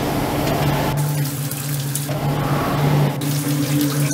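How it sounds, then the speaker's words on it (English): Shower water runs steadily for about four seconds, a continuous broadband rush with a faint hum underneath, fairly loud and close, with no voices. "hoe lang laat een mens wel niet douchen?"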